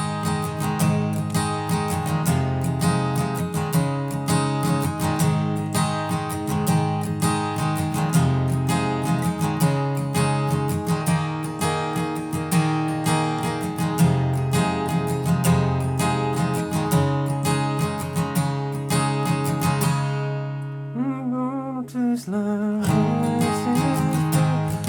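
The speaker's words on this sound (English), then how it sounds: "the strumming pattern in the right hand is gonna sound something like this all together" Acoustic guitar strummed in a steady country-pop pattern, dense chords ringing continuously and loud, with a brief break and a few sliding notes near the end before the strumming resumes; no talking.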